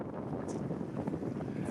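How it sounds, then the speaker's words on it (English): Wind at sea around a fishing boat on a bluefin tuna trip, a steady rough, low rushing that buffets the microphone, moderately loud and continuous, with no clear voices. "It's a little windy"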